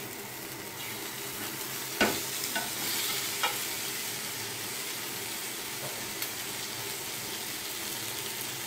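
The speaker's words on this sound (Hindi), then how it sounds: "चिकन एक तरफ से फ्राई हो गई है, अब मैं इसको दूसरी तरफ से भी फ्राई कर लूँगी।" Chicken pieces frying in a pan and being turned over for chicken mathbi, a continuous close sizzle with a few sharp scrapes and clanks of the utensil early on, no voices.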